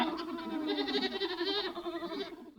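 A goat bleat plays as an alarm tone from a sunrise alarm clock, one long wavering bleat lasting about two seconds, clear and fairly close, with no talk over it.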